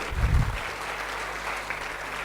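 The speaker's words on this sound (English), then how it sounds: "I request you all to clap for your graduation degrees." Graduates clap together in an auditorium at a graduation day ceremony, a steady, moderately loud spread of applause after a brief low thump at the start.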